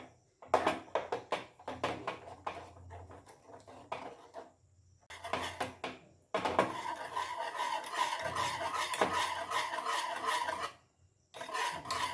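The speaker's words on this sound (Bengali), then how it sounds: "ভালো করে মিক্সড করে নেব এর মধ্যে" A ripe mango mixture is stirred in a bowl with repeated scraping and rubbing strokes of a utensil, soft and close, in bursts separated by brief pauses.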